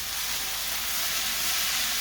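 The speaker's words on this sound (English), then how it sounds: "Okay, the onions have been cooking for a couple of minutes now." Onions frying in a pan for a chicken curry give off a steady, close, even sizzle with a dense hiss that holds constant throughout.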